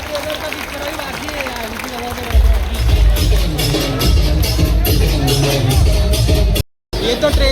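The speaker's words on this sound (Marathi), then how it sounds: "चला महिला गोविंदा पथकासाठी जर एक जोरदार टाळ्या होऊन जाऊ देत" Crowd applause and cheering for a women's Govinda squad at a Dahi Handi human-pyramid event in Thane, a broad loud wash of clapping rising after a quieter opening and continuing to the end with babble mixed in.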